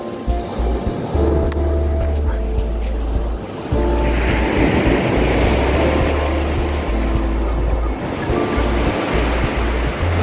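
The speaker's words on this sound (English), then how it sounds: "Boat going along there. Probably on its way to the caves" A boat moves along the coast off São Rafael Beach in Albufeira, Portugal, as a low engine rumble under loud, rolling surf and gusty wind buffeting the microphone, with no clear voices.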